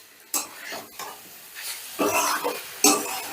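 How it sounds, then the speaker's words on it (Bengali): Chicken fries with spices in a pan, stirred with a spatula in several bursts of scraping and sizzling, with short quiet gaps between strokes and a louder clatter near the end. "এবার চিকেনটাও মশলার সাথে বেশ ভালো করে ভাজা ভাজা করে নেব"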